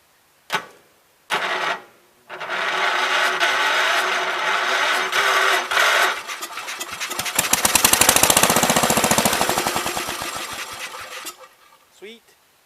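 A 1984 John Deere 5665 Gravely engine cranks in a few short bursts, then catches and runs roughly after a long idle, its rapid knocking firing rising to a loud peak before dying away, close up.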